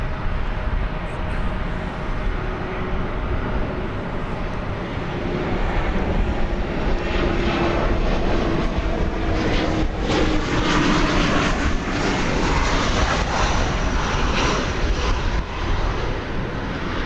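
A steady roar from the engines of an airliner on an Omaha flight at DFW Airport, heard from a distance for about seventeen seconds and swelling slightly midway, with no one speaking.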